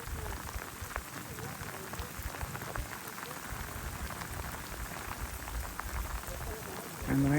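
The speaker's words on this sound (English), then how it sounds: "And the rain is very bad." Heavy rain pours steadily near erupting lava with intense steaming, a dense continuous hiss of drops on the surface, loud and close throughout, swelling slightly at the very end.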